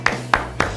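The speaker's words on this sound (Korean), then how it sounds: "박수 한번 주시죠." Three slow, evenly spaced claps ring out close and clear for the winner of a paper airplane flight-duration contest at the Hangang paper airplane festival, over a low steady hum.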